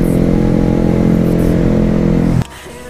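A Jawa 42 and a modified Yamaha R15 roar at full throttle during a drag race, a loud sustained engine drone that cuts off sharply near the end, leaving a quieter idle.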